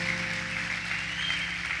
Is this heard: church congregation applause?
yes